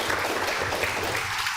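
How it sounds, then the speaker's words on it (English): Conference audience at a youth and women's water and sanitation event breaking into steady applause, dense continuous clapping that fills the room at close range, with no voices over it. "Another round of applause for him."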